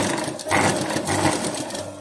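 Ordinary domestic sewing machine stitching a blouse buttonhole, a close, continuous motor whir with a fast needle rattle that swells briefly in the middle, no voices.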